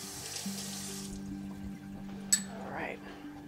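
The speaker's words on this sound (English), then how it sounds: "I'm gonna rinse off my tea trivet real quick here" A tea trivet is rinsed under a running kitchen tap, a short close stream of water splashing into a sink, with a brief clink partway through.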